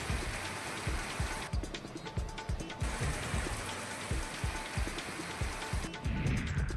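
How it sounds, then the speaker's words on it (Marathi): Unseasonal pre-monsoon rain falls on Risod town in Washim district, a steady, dense hiss of drops hitting surfaces that continues without a break, fairly close and with no voices. "वाशिममधल्या रिसोड शहरातही अवकाळी पाऊस बरसला."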